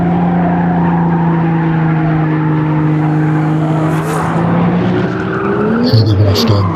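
A Mustang drifting in an online car racing video game, a loud sustained engine drone with its pitch bending, then sharp tire squeals near the end.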